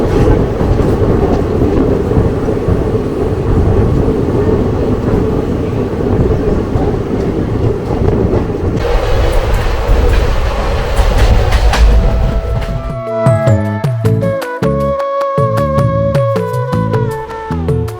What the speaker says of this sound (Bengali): আমাদের ট্রেন প্রবেশ করছে সাহাডোল স্টেশনে